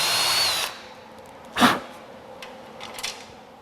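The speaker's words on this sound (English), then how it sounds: "the last thing I want to do is drill my holes in the wrong place" A power drill boring holes while fabricating a custom radiator fan shroud, heard as a short whir at the start followed by a couple of brief bursts, near and moderately loud with quiet gaps between.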